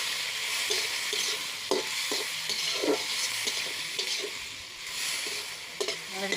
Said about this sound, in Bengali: তো এলাচ চলতেছে ভাজাভাজি